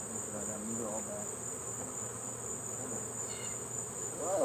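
Honeybees swarm over an active beehive during a honey harvest, a steady, dense buzz that holds through the whole stretch, with a faint high insect whine and no talk.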